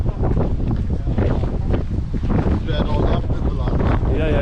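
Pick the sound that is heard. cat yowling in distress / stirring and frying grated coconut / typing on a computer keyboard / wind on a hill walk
wind on a hill walk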